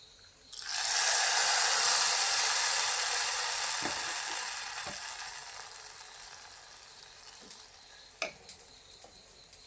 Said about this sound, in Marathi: ही गरम गरम फोडणी या खिरीवर टाकायची